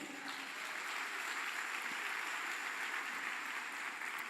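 A church congregation gives a sustained round of applause at an evening family service, heard as a soft, even wash of clapping from some distance.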